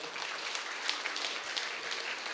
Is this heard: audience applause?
yes